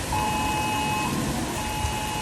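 A phone's emergency alert tone for a flash flood warning sounds as a steady, sustained electronic tone over a loud background of storm rain and noise, with no speech.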